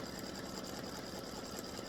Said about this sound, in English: It's on the last bat doing the satin stitch around the applique.